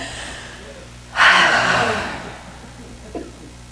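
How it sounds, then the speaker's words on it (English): A single deep breath drawn in sharply through the mouth, close and fairly loud, easing off over about a second, with a faint short breath afterward. "Let's all take a deep breath in."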